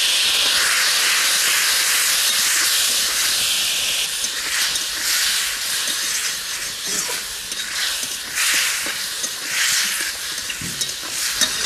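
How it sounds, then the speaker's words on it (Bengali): Water hits a hot pan of frying spice paste with ginger paste and chopped tomato, producing a loud, steady sizzling hiss that runs unbroken throughout with no talking. "এবার মশলাটা কষানোর জন্য কিছু পরিমাণ জল দিয়ে দিচ্ছি।"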